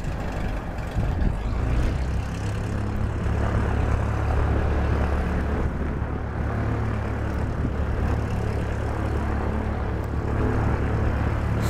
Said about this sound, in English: There's like three Learjets inbound.